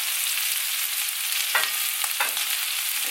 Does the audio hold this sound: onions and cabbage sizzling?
yes